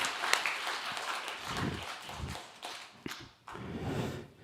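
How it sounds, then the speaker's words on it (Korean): Applause from a church congregation at a Sunday worship service, a moderate, steady wash of clapping that rises and dips over several seconds with a few sharper claps standing out. "우리 큰 박수로 한번 환대하겠습니다."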